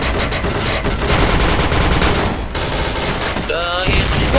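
Rapid automatic gunfire rattles loud and dense in a shooter video game, bursts running almost without pause for about four seconds and ending in a trailing metallic ring.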